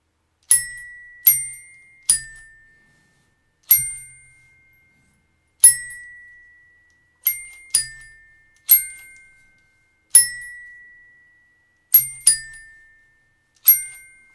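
A hand-played Ugears mechanical celesta strikes a slow, uneven melody of single bright metallic chimes, each ringing clearly and decaying alone in near silence, about a dozen notes spaced apart.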